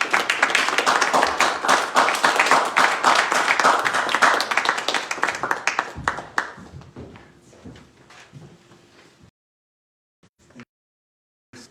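An audience at a poetry reading applauds with dense, close clapping that holds steady for about six seconds, then thins to scattered claps and fades into near silence.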